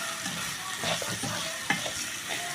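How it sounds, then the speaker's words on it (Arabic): Onions frying in a pan for Egyptian koshari, a steady hiss of sizzling oil with a few scraping stirs and a sharp clink of the utensil, close and continuous with no talking. "وتحمري شويه بصل برضو"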